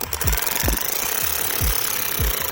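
Repeated short bursts of a power tool whirring and rattling as it tightens a car battery terminal on a Suzuki SX4, about five quick pulses in a rough rhythm, close and fairly loud.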